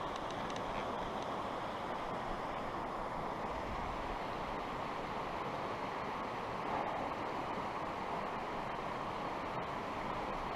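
Clear water of the Middle Fork of the Yuba River runs over a rocky crossing, a steady broadband rush that holds evenly throughout, close and continuous with no voices.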